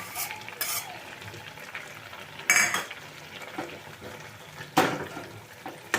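A curry with fried prawns and lentil dumplings is stirred in a pan, with a low simmering sizzle and a few sharp clinks of a spoon against the metal.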